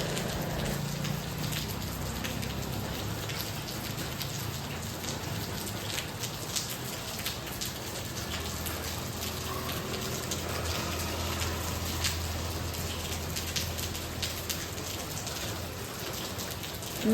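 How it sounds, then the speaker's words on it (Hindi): Steady rainfall pours down for the whole stretch, a dense, even hiss of drops hitting surfaces with no voices over it. "ये नेक्स्ट डे मॉर्निंग अगेन बारिश हो रहा है"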